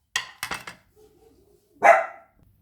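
A dog barks a few times nearby, a quick sharp burst and then one louder bark after a short quiet pause.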